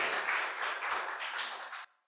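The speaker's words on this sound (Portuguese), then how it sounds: "Você pode aplaudir a Jesus mais uma vez?" A church congregation applauds Jesus with steady, dense clapping that fills the room for about two seconds before cutting off abruptly.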